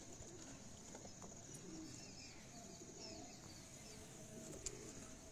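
Pigeons cooing inside a farmhouse loft, faint soft coos scattered over a steady background hum, heard from a distance with no talking.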